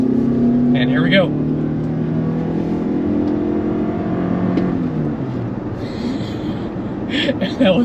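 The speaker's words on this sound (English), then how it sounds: "you heard the wheels squeal a little bit, and you heard the engine turn on" A Toyota RAV4 Prime accelerates hard from a stop with a rising engine note and a brief squeal of tires, while people talk inside the vehicle over the road noise.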